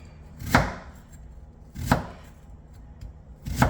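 Onions being chopped on a cutting board, three sharp knife strikes spaced about 1.5 seconds apart, close and clear in an otherwise quiet kitchen with no talking.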